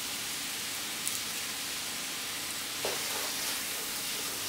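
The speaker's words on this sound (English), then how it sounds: "In with our curry leaves." Curry leaves hit hot oil in a pan for a Durban beef bunny chow and give a steady, even sizzle with a couple of faint crackles. The sound runs alone, with no talking.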